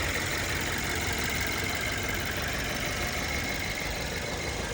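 A 2007 BMW 118i with a 2.0 petrol engine and manual gearbox, about 210,000 km on it, idles with a steady, even hum and no changes in revs.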